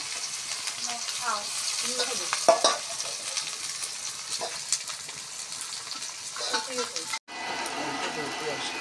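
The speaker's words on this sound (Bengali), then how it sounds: "তেলে দেওয়া হচ্ছে পেঁয়াজ চাটনির জন্য" Onions fry in oil in a pan for a chutney, with a continuous low sizzle and frequent stirring scrapes, and a short cut near the end before the frying sound resumes.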